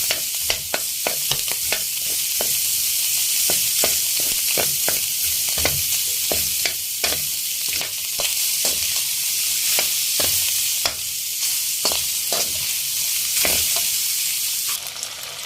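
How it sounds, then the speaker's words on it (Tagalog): Onions sautéing in a pan with pork belly (liempo), a steady loud sizzle broken by frequent sharp scraping and stirring strokes, close up and with no talk. "Gisa na natin yung sibuyas sa kabayan."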